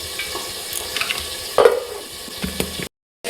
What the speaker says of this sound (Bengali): কিন্তু আরও একটু লাল লাল করে ভাজবো